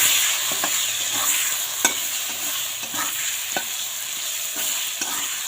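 Potato pieces frying in a pan with salt and turmeric, an even close sizzle punctuated by regular scraping strokes of a spatula stirring them, no voices.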